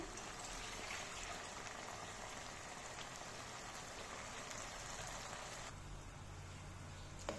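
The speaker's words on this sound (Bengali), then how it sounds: "নারিকেলের দুধকে একটু সিদ্ধ করে নিচ্ছি।" Coconut milk simmering in a pan for hilsa fish curry gives a steady, soft hissing bubble, faint and continuous with no talking.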